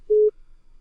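A single short busy-signal tone on a phone line after a call is cut, one clean steady beep of about a fifth of a second, loud against near silence.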